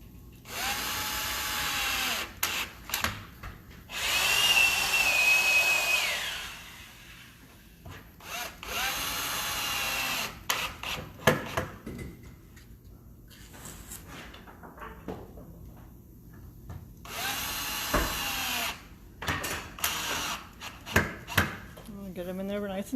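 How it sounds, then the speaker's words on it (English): A power drill drives screws into a glued wooden bedrail joint in a wood shop, with several whirring bursts of varying length separated by quieter stretches of shop noise. "So he's already put glue in the joint, and he's screwing them in."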